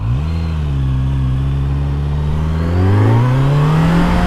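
A motorcycle engine revs up smoothly and loudly nearby, its pitch rising steadily toward the end as it accelerates.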